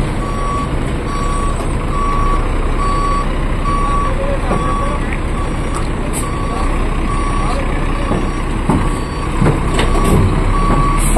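A truck reverses during ferry loading at Dangay Port in Roxas, its backup alarm beeping in a steady, evenly spaced series over loud, continuous engine rumble and harbor noise, with occasional hiss and clatter.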